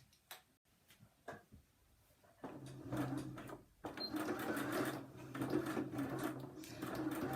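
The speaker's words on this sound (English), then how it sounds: "So I'm going to crack on and get these machined." A sewing machine set to a small stitch length runs steadily while stitching fabric letters for a retro sewing project, with a brief pause before the whirring resumes, close and fairly loud.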